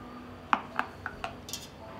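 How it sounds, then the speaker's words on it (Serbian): Glass jars set one by one into a pot lined with cloth for pasteurising, giving about five short, soft clinks and knocks spaced through a quiet moment. "na dno ću staviti krpu i unutra ću poređati tegla."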